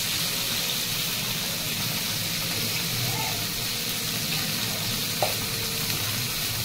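Raw green banana frying in oil with salt and turmeric, a continuous close sizzle with faint stirring noises and one small clink partway through.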